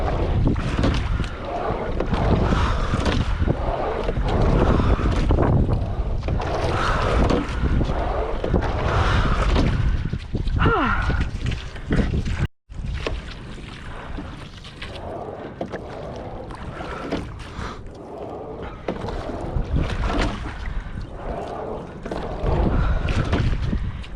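Rowing a boat on the Great Miami River, with steady water wash and strong wind buffeting the microphone throughout, and a brief dropout partway through.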